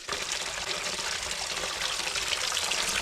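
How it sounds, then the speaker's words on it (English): Natural spring water pours and trickles steadily near a river on the way to an off-grid cabin, a continuous close, fairly loud rushing stream with no talking. "Pure, fresh spring water."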